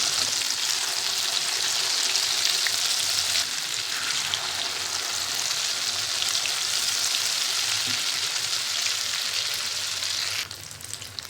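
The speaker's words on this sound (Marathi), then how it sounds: "तर आता आपण हे बनवून घेतलेले वडे त्यामध्ये टाकलेले पिठामध्ये. तर तेल तापले त्यावरती सोडून घ्यायचं." Mini potato vadas coated in batter deep-fry in hot oil over full flame, giving a steady, close, loud sizzle and crackle that runs nearly unbroken before softening slightly at the end.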